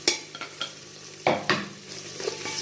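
Tomatoes sautéed for akhani pulao in a pan, with repeated spoon scrapes and stirring clatters over a soft continuous sizzle, close by and irregular in rhythm.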